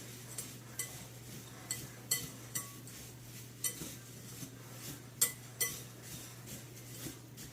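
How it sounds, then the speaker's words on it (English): A wire whisk beating a dry cinnamon mixture in a bowl, giving a quiet, steady series of light metallic clinks and taps against the sides over a constant low hum. "I'm going to get my whisk, because I forgot that. Whisk this together"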